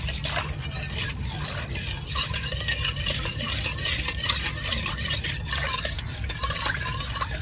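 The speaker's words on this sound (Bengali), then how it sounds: "এখন কন্টিনিউ কিন্তু এটাকে নাড়িয়ে যাব, না হলে তলায় কর্নফ্লাওয়ারটা না লেগে যাবে।" A spoon stirring milk mixed with cornflour in a pot on the stove, scraping steadily and continuously against the bottom for several seconds, close and alone without talk.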